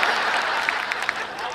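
Brief burst of audience applause at a Hindi comedy show in a pandal in Ahmedabad, with many hands clapping densely and evenly at close range, under a little talk.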